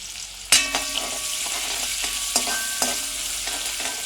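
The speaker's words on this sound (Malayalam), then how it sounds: "ചട്ടി ചൂടായി എണ്ണ ഒഴിച്ചു അതിലേക്ക് ഇഞ്ചി വെളുത്തുള്ളി ചോപ്പ് ചെയ്തത് ഇടുന്നു" Chopped ginger and garlic drop into hot oil in a pan for chicken Manchurian, setting off a sharp sizzle, followed by several distinct clinks and scrapes of stirring over a steady frying hiss, with no talk.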